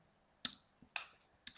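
Computer keyboard key clicks while working in CAD software: three sharp, close taps spaced roughly half a second apart over a quiet background, with no talking.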